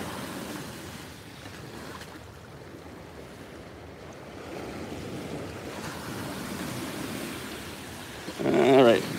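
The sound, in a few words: big ocean wave crashing on shore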